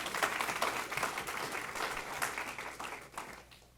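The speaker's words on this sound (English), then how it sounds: "So round of applause for her." Applause at a school district board meeting honoring a student award recipient, a room of hands clapping fairly softly and steadily, fading toward the end.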